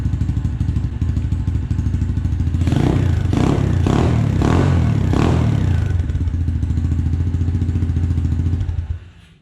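A 2018 SSR motorcycle fitted with a new quiet muffler idles with a steady low thump, rises briefly in a few revs with some mechanical clatter, then cuts off at the end; no talking.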